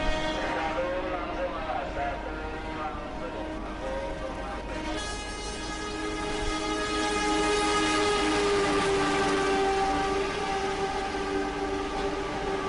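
A train approaches with its horn sounding steadily over a continuous rumble, the tone holding and growing louder as it nears, the pitch shift of the passing train building through the clip.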